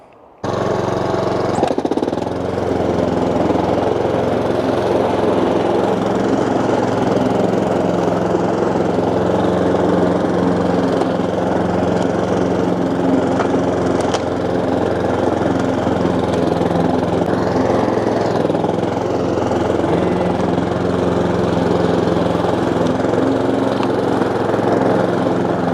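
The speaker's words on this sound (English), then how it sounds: "go around with the mower." A lawn mower cutting grass in a garden runs continuously and loud after starting up, with a steady droning engine and slight shifts in load as it moves across the lawn.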